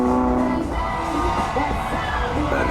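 A large crowd cheers and roars continuously, a dense sustained wash of voices with whoops rising over it, loud and close throughout.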